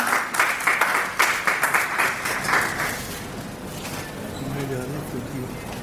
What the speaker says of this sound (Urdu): میری آپ سے درخواست ہے آپ کی زوردار تالیوں میں جناب ڈاکٹر فرید پراجا صاحب۔